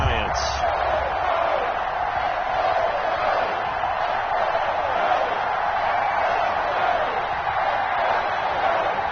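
A stadium crowd in an EA Sports NFL video game, Los Angeles Rams versus New York Giants, sends up a steady, loud roar of murmur that fills the whole stretch.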